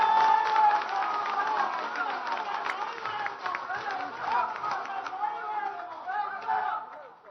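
A crowd at a BJP gathering claps steadily for several seconds to welcome Akash bhai into the party, with chatter and voices running under the applause.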